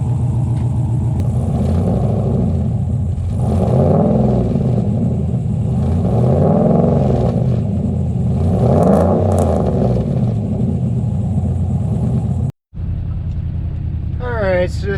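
Inside a Chevy Suburban fitted with a new muffler, a low droning exhaust tone hums steadily while driving, rising and falling with throttle, with a brief cut near the end.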